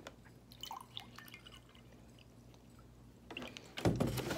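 Water poured into a measuring cup, quiet drips and trickles at first and then a louder splashing pour near the end, close by with no talk.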